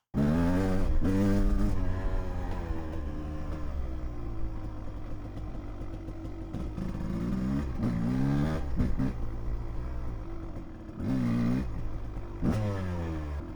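A 1993 Suzuki RMX 250 two-stroke dirt bike with a new clutch starts up and revs repeatedly, loud rising and falling engine whines in bursts between a rough steady idle, close by with no talk.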